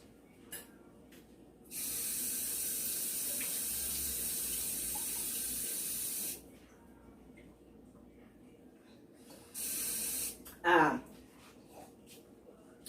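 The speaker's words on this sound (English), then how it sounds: "she drinking water out of the faucet" Water running from a kitchen faucet comes in two bursts, a longer steady gush and then a shorter one, each starting and stopping abruptly, with quiet handling sounds and a brief voice between them.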